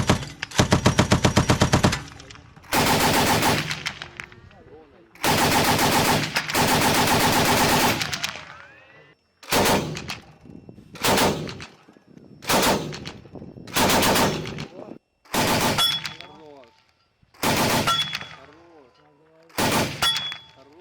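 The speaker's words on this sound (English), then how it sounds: "they're going to practice training on the machine gun, which they keep on the top for close quarters" A Challenger tank crew fires the roof-mounted machine gun on a muddy training area in repeated loud, sharp bursts of rapid fire, each a second or two long, with short gaps and some echo between them.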